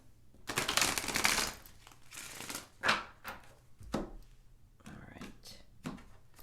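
Tarot cards riffle and slap together in several quick shuffling bursts, with softer shuffles and taps in between, close to the microphone.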